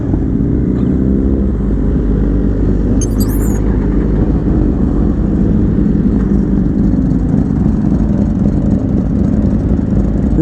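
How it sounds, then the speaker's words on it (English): Sport bike engine, R1, S1000RR, ZX10R or V4S class, ridden slowly in Miami; a steady loud low rumble with uneven throttle, close and continuous, plus a brief high chirp near the middle. "This bike does not like going slow, bro."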